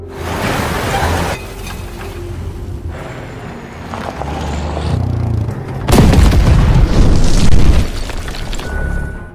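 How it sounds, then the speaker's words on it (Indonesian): A motorcycle blowing up mid-road in a film, heard as several loud booming blasts amid rumbling, with the biggest, densest burst arriving near the end and continuing noise after. "tiba-tiba saja motor yang menjadi pemandu jalan meledak di tengah jalan"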